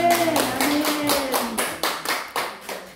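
A church congregation applauds in a steady burst of many hands clapping together, fairly close and loud, trailing into a few scattered claps near the end.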